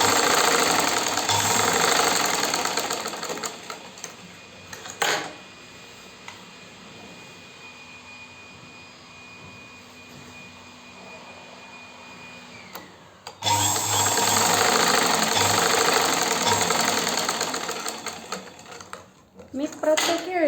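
Domestic sewing machine stitching a petticoat, the motor running in steady rapid bursts with a pause around five to thirteen seconds before stitching resumes loudly; a tailor's voice is heard faintly at points.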